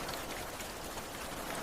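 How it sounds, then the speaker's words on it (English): Gentle, quiet rain falls steadily on a street of empty storefronts, a soft, even patter with no pauses and no voices. "This rain was quieter"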